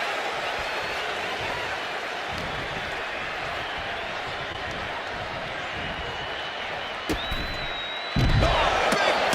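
A wrestling arena crowd at a Royal Rumble event roars in a sustained, distant wash of cheering, a commentator talking over it, with a sharp impact and a louder surge of noise near the end.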